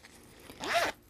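A small zipper on a Coach Pennie shoulder bag pouch is pulled once, a short close rasping zip of about half a second in a quiet room.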